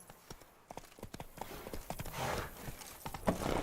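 Horse hooves clip-clop in a quick galloping rhythm in The Witcher 3, a faint, steady patter of hoofbeats with some rustling movement building toward the end.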